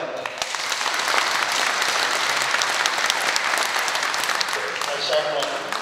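An audience at a book launch for a documentary on Syngman Rhee claps in a steady, lively round of applause, with some voices mixed in.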